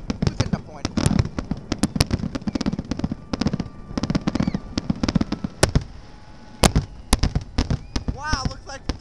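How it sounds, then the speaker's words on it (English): Fireworks exploding in a rapid, irregular barrage of loud cracks and bangs, some in quick bursts like gunfire, with people talking excitedly between and over the blasts. "fireworks are interrupted just now"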